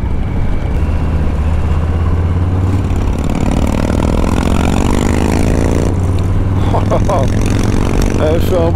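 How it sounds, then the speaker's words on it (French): A motorcycle engine rumbles steadily up close, rising in pitch as it revs, with clattering and other road noise around it. "Elle fait un bruit incroyable sa moto."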